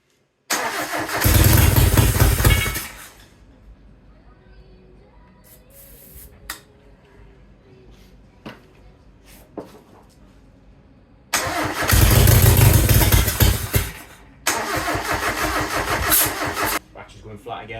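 A Mazda MX5 fitted with a Triumph GT6 engine cranks over in two loud bursts, several seconds each, separated by a quieter stretch of scattered clicks and knocks, with people talking.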